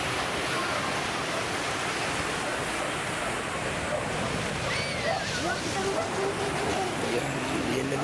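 Steady broadband wash of surf at Mercedes, Camarines Norte, waves rolling and breaking continuously at moderate loudness, with a faint voice murmuring under it.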